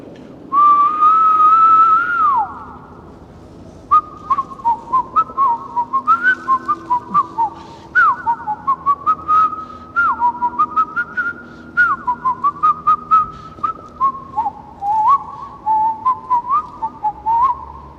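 A person whistles a lively melody of short, quick notes with a few held tones, clear and close in a slightly echoing space.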